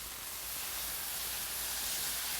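About a cup of water poured into a hot pan on a disc cooker hisses and steams in a loud, dense, continuous rush that builds slightly toward the end.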